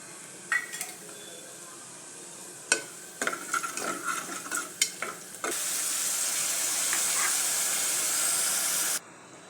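Spices sizzle as cumin, turmeric and chili powder go into hot oil with mustard seeds and garlic for a walpapdi bean dish, first in short bursts of stirring, then a loud, steady close-up sizzle that stops abruptly.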